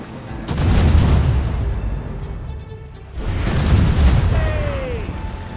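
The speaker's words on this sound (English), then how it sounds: "Keep a safe distance and use the mortars on her!" Mortars fire from a sailing warship during a naval fight in Assassin's Creed Rogue. Two heavy, rumbling booms roll out a few seconds apart, each followed by a long decay, with a faint whistling tone after the second.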